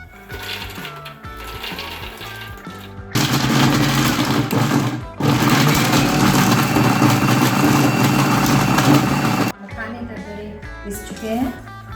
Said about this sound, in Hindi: अब इन मखानों को मिक्सी में पीस लेंगे, थोड़ा दरदरा।